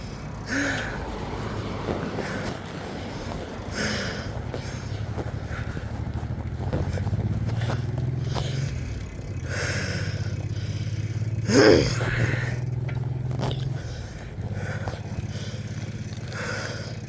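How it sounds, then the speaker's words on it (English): A motorcycle rider breathes heavily, with loud, ragged gasps and sighs close to the microphone over steady wind rush and low engine drone. "please excuse the way I'm breathing."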